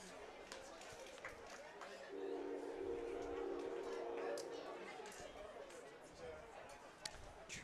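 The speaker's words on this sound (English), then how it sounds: "Train's going off." A train passes near a varsity high school baseball field. A low, steady rumble and a faint sustained horn-like tone swell for a few seconds under crowd chatter and scattered ballpark noise, distant and moderate in level.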